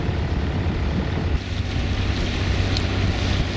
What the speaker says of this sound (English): Well, these are quite the rapids.